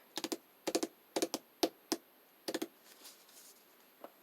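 Paper scored on a scoring board for a card and envelope, heard as quick close clusters of sharp taps and clicks in groups of two or three, then a faint scrape and one last tap, with no talk.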